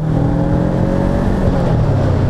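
Voge 500AC motorcycle engine revving steadily and loudly up close, a continuous throaty drone with a rising harmonic pitch and no talk over it.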